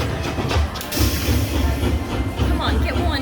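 Train-themed bonus sound effect from a high-limit slot machine in a casino slot room, a steady rumbling clatter with some chiming tones, heard up close over casino background noise.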